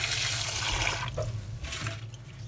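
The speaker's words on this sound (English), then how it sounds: "I'm now changing the first set of water" Water pours and splashes into a pot in a kitchen while the first boiling water for callaloo and salt fish is changed, a close continuous gushing rush that eases off.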